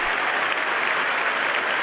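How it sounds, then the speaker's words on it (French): Church congregation applauding during a Bible study gathering in Santiago, Chile, a dense, steady burst of many hands clapping at once, full and continuous with no speech over it. "Un applaudissement."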